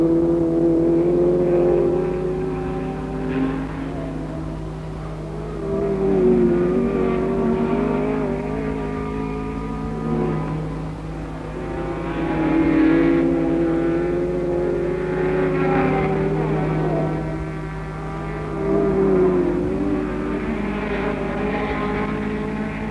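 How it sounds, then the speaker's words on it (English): Several 1963 circuit racing cars, including a Jaguar E-Type, roar past with rising and falling engine notes, a continuous loud motor drone that swells and fades in waves over about twenty seconds with no talk. "But by half distance, Hill had taken his E-Type into the lead."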